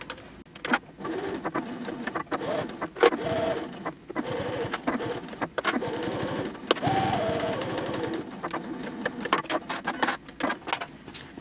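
A sewing machine stitches a seam on a fabric basket, running in bursts of rapid mechanical chatter separated by short pauses and fabric handling clicks, close and without talk.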